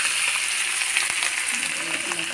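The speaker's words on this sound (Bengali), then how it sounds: "এখন আমি ভাজি করবো" Vegetables fry in hot oil in a pan with a steady, dense sizzle that stays close and even throughout.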